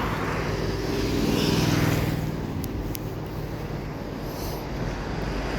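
Cars passing by on a cold, windy day produce a rising and fading rumble with a broad whoosh, mixed with wind buffeting the microphone, fairly close and continuous.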